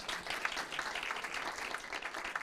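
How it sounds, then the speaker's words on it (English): Audience applauding at a city council meeting honoring a retirement, a faint, steady wash of many hands clapping, heard from a distance across a large room. "Please applause."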